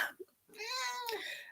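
A female cat in season lets out a long, drawn-out yowling meow, loud and close, after a couple of short faint sounds.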